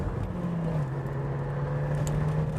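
A four-wheel-drive Ford Escort pulls hard on a wet test track, its engine holding a steady, close drone with a slight rise in pitch under the cabin hum.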